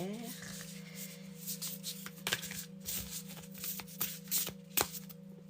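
Tarot cards being shuffled by hand, a steady papery riffling and sliding close up, with a low steady hum running underneath and a few sharper card taps.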